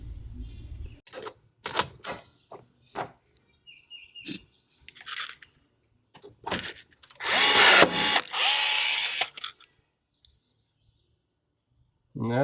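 A rivet tool pulling rivets through cleats on an Airstream trailer underbelly during restoration, giving a series of short, sharp bursts of varying length spaced a second or so apart, close up, with a longer grinding burst near the end.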